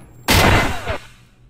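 A single heavy gunshot from a big gun in Escape from Tarkov booms out loudly and close, then trails off in a short echoing tail.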